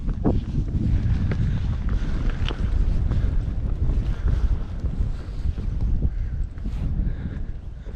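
Wind blows outdoors beside a dam on a wet, blustery walk, roaring steadily against the microphone with low rumbling buffets throughout.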